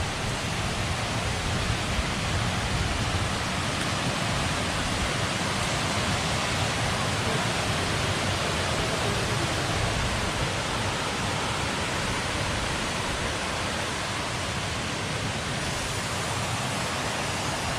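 Water at Kuang Si waterfall in Laos flows in a loud, dense, unbroken roar, close by and alone without talk.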